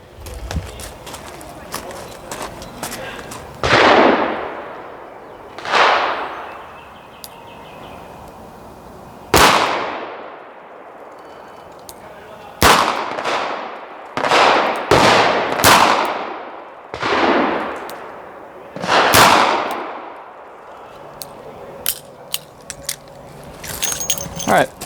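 A Smith & Wesson 442 snub-nose revolver fires about a dozen loud sharp single shots at a target, spaced a second or more apart, each with a decaying echo, outdoors with no voices.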